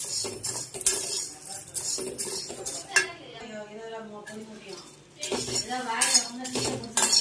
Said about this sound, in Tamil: அடுத்து இப்போ நம்ம கோதுமையை இளவரப்பாக வறுக்கிறோம்.